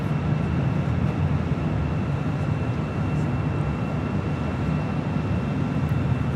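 Starlux Airbus A350 arriving from Taipei at Los Angeles International Airport, a steady broadband engine roar holding at constant loudness throughout, with no voices.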